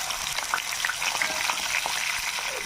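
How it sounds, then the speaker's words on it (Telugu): Prawns shallow frying in hot oil in a kadai, a steady dense sizzle with scattered crackling pops throughout, close and continuous. "ఇప్పుడు రొయ్యలు వేసుకుని కొంచెం షాలోగా ఫ్రై చేసుకున్నాను"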